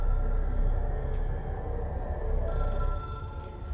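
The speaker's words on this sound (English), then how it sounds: "Let's answer the damn phone. It's been ringing constantly." A telephone rings in the video game Control, a steady electronic trill repeating over a low hum, with no voices.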